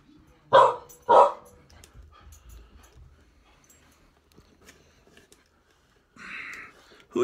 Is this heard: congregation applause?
no